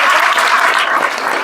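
Audience at a spiritual gathering breaks into dense, loud applause, a continuous wash of many hands clapping together for a short burst with no talking over it.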